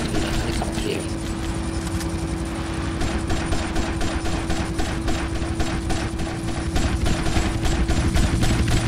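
Gunfire in Grand Theft Auto Vice City: a steady stream of quick, regular shots buried in a dense, constant roar of engine-like game noise.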